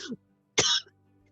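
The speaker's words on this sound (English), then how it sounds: "I started coughing like this, actually." Two sharp coughs from one person, close by: a short one, then a longer, harsher one after a brief pause, with quiet in between.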